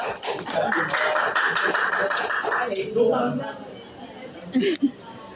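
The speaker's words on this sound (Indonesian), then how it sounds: "Tepuk tangannya untuk Alif" Classmates applaud a student during a grade XI Islamic education class discussion: a dense burst of clapping for about two and a half seconds, then it fades out as a voice speaks and a brief knock follows.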